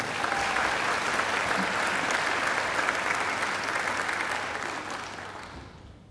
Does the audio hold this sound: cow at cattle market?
no